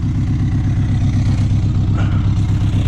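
A Honda CR-V engine with a roughly patched exhaust runs steadily at close range, giving a loud, even low rumble with a faint rattle and no voices.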